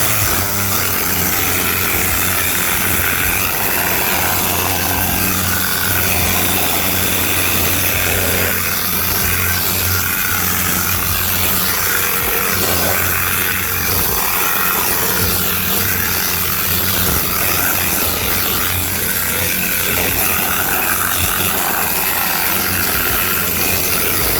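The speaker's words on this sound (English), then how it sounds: "get my air gun. I'm gonna blow this." Compressed air gun blasting through a car's interior during a detailing job, a steady loud broadband hiss running continuously up close with slight fluctuations and no talking.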